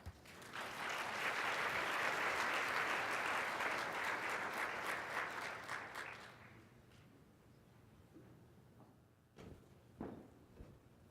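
Audience at a retail industry conference applauding to welcome a speaker, a dense sustained clapping that fills the room for about six seconds, then fades out into quiet room noise and a few shuffles.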